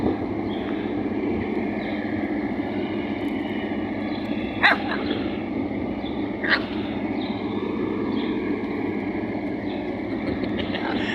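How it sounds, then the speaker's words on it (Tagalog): Dogs bark a couple of times at a moderate distance over a steady engine hum, with a few faint yips between. "may mga aso rin dito"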